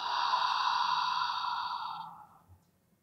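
During a Pilates exercise, one long, breathy exhale lasts about two seconds and then fades out. It is close and soft, with no talk over it.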